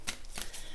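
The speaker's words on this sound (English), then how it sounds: "Just a couple more shuffles here and get started." A tarot card deck being riffled and shuffled in quick, soft bursts of papery flutter, close and quiet, with no voices over it.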